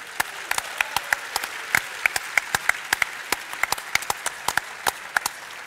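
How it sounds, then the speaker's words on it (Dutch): Audience applause at a jubilee-year closing event, a steady patter of many hands clapping with sharp individual claps standing out, fairly close and continuing for several seconds without talk. "Misschien een applaus nog voor Frank."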